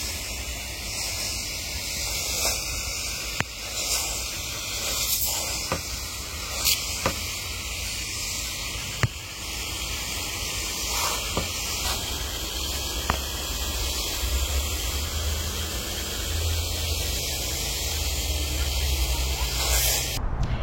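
Seedlings in a hot greenhouse are watered with a sprayer, giving a steady soft hiss of spray broken by occasional short clicks and taps, with no talking.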